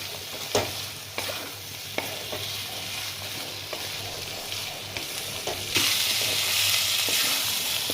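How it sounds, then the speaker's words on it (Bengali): Pointed gourd frying with spices in a pan, a continuous sizzle punctuated by sharp stirring knocks, growing louder and hissier toward the end. "আমার মশলা ভাজাটা হয়ে গেছে পটলের সঙ্গে"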